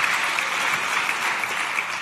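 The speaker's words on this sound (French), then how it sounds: "Merci d'applaudir Julie Nivet." Dense, even audience applause fills a trophy presentation at a chamber of commerce awards ceremony in Troyes, with sustained clapping and no voices over it.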